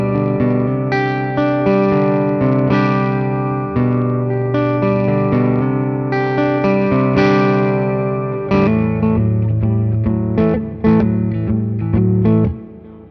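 A restored 1959 Gibson L5 archtop electric guitar plays chords and melodic notes through a Princeton Reverb amp simulation, with a warm, effected tone and ringing sustain, loud and continuous without any speech.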